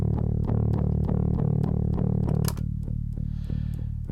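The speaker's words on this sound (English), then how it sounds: "Here's the distortion." Electric guitar played through a Joe Meek gbQ pedal set for heavy distortion, chugging a steady run of evenly spaced palm-muted notes, then letting a final chord ring out and fade, loud and alone.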